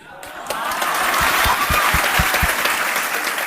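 Audience applause in a lecture hall, dense and loud, rising quickly and holding steady with rhythmic individual claps audible within the crowd.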